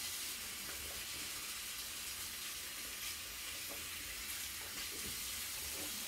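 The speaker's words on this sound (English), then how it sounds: "Rinse my hands real quick." Tap water runs steadily as hands are rinsed, a faint continuous hiss throughout with no talking.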